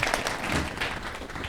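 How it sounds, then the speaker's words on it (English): A university lecture audience applauds a moderator, a dense, continuous patter of many hands clapping in a hall, steady and fairly loud throughout. "You can cheer. You can clap."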